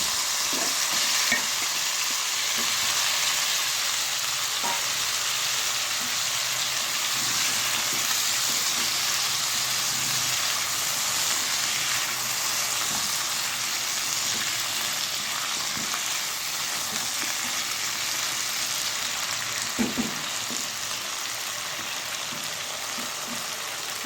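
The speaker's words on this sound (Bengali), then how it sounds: "আলু আর সিমটাকে একটু ভেজে নিতে হবে" Potatoes and flat beans fry in oil with a steady, bright, hissing sizzle that holds evenly throughout, dotted with occasional soft pops and clicks and no talking.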